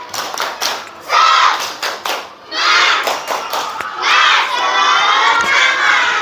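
Schoolchildren in a classroom do a rhythmic spirit clap chant during a poetry reading lesson, starting with quick sharp claps in a pattern and then bursting into loud shouted chanting together, close and lively.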